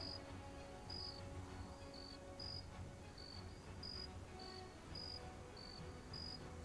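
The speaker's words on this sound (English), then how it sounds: "The crickets be rocking." Crickets chirp in a Cold War–era multiplayer shooter's night ambience: a regular high, thin chirp repeating roughly twice a second over a faint steady background, quiet and alone with no voices.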